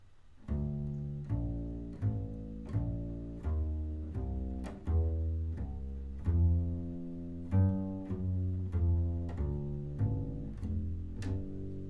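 A low, plucked bass line playing a jazz lick of quick notes in a steady swinging rhythm, played alone and up close.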